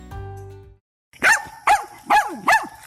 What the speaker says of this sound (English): That's Pixie, my sweet, fun-loving pup